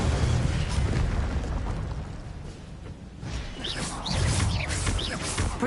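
An Incendio fire spell is cast in Hogwarts Legacy, a burst of whooshing flame with crackling surges and booming bursts, loud and close, repeating in waves over a few seconds.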